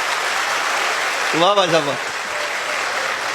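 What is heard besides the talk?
audience clapping together loudly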